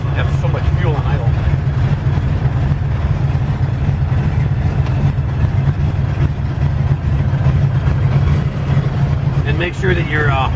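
A DeHavilland Beaver seaplane's piston engine idles at about 500 RPM, a loud, steady low drone running unbroken from start to finish.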